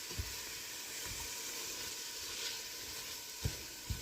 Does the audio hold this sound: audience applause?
no